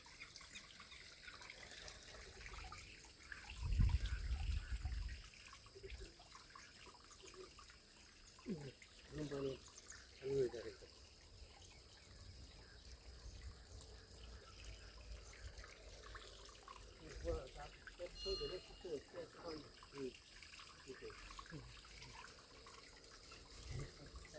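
Water runs steadily out into an irrigation channel feeding a field, a soft continuous flowing sound with faint voices speaking over it.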